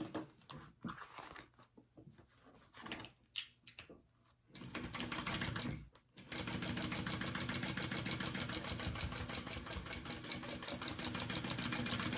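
Sewing machine stitching tote bag pieces at full seam allowance, first a few short bursts with handling noises, then a steady, fast, close mechanical whir running continuously for several seconds.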